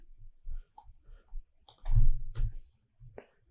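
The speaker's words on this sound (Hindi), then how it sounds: "अब मैं आउटलुक साइन अप के ऊपर दोबारा क्लिक करता हूँ" A computer mouse clicks while signing up for Outlook: sparse, close single clicks spaced irregularly, with a slightly louder cluster in the middle.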